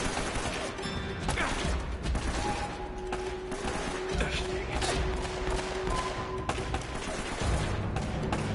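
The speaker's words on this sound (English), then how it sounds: "There's still a guy shooting at us" Rapid bursts of gunfire crackle through an Uncharted firefight, steady volleys layered with mechanical clatter and impacts over a dense background of game action.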